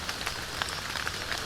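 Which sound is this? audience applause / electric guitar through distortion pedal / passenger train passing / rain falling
rain falling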